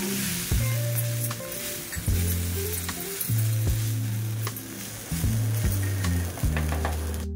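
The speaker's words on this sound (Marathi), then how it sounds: "आता आपलं वांगी छान अशी भाजून झालेली आहे तेलामध्ये" Eggplant frying in hot oil in a pan, a steady loud sizzle with repeated metallic clinks and scrapes of a utensil stirring at a regular rhythm, close up and without talk.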